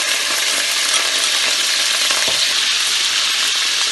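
Garlic and ginger hit hot garam masala in a pan and fry with a loud, constant, hissing sizzle, steady from start to finish with a faint clink partway through, close up and with no talking.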